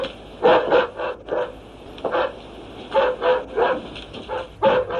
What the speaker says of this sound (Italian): Che ha il cane